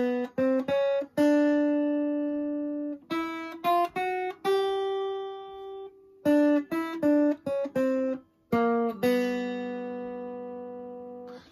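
A jazz tune played on guitar in a kids' jazz guitar lesson: a clear, close melody line of short plucked notes in phrases, with some longer sustained notes and brief gaps between phrases, no talking.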